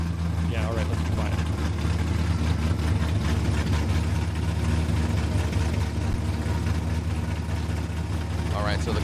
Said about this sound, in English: the car obviously way too loud